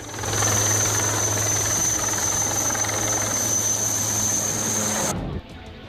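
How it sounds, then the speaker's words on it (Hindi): An army helicopter takes off from a road during severe flooding in Shivpuri, Madhya Pradesh. Its engine and rotor make a loud, steady, close drone for about five seconds, then cut off abruptly. "और सड़क से उड़ान भरता हेलीकॉप्टर।"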